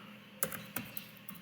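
A handful of sparse keystrokes on a computer keyboard, four or five quiet clicks spaced irregularly over a soft room hum, with no voices.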